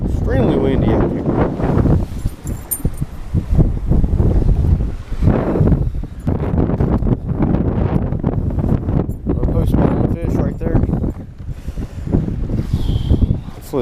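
Strong wind gusts buffet the microphone throughout while fishing from a boat on Lake Norman during a cold front, with broadband roaring bursts and people talking over it.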